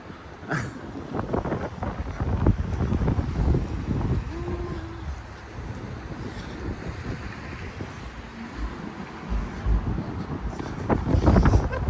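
Steady wind rushes and buffets the microphone throughout, with faint gusts and a low rumble, loud and close, on a downtown street in Grande Prairie, Alberta.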